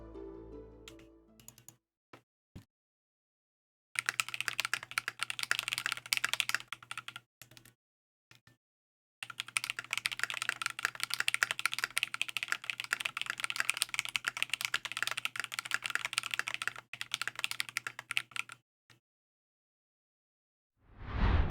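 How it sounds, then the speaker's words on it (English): Typing test on a metal-cased mechanical keyboard fitted with only a few keys and no dampener foam: two bursts of rapid, close clacking keystrokes separated by short pauses, heard alone. "I went ahead and just put in a few of the keys, just enough for a normal typing test."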